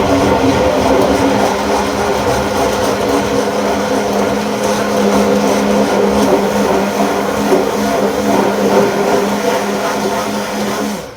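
A hand blender whirs loudly and steadily while blending homemade juice in a kitchen, a continuous close motor drone that holds for the whole stretch and then cuts off at the end.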